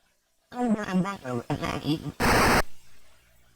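Phaser fire in a TI-99 Star Trek computer game, a short burst of harsh buzzing electronic noise lasting about half a second, following a stretch of synthesized robotic speech from the machine.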